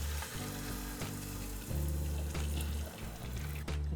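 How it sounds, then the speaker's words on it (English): Heavy cream with crushed red pepper flakes bubbling and sizzling in a pan for an Alfredo sauce, a dense continuous fry with a few soft stirring scrapes, close and loud with no voices. "now that we got that cream in there, we're gonna cook and stir that"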